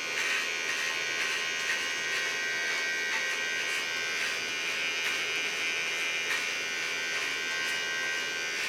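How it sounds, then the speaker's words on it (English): An electric zero shaver buzzes steadily and close while trimming hair, giving a constant high whine with faint rhythmic pulses and no voices. "The nice thing of a zero shaver is that it doesn't irritate the skin at all."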